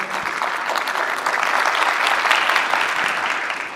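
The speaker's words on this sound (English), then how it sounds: "And then we're gonna get the claps coming back." A conference audience at an engineering summit applauds, dense sustained clapping from many hands that swells slightly and holds steady throughout, loud and close, without speech.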